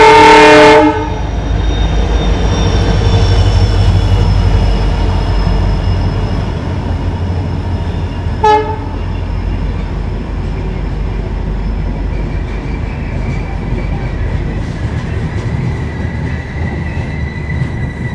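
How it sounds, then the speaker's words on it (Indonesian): A crowded Indian passenger express on the Purna–Pune route rolls into a station with a loud, rumbling wheel roar, a horn blast at the start and a short one midway, and faint wheel squeal as it slows. "kereta api yang barusan masuk tuh SNSI COA"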